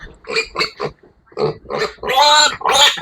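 Piglet squealing loudly while being given an intramuscular Hog Cholera vaccine injection on a farm, a run of sharp close squeals that rise to long shrill screams.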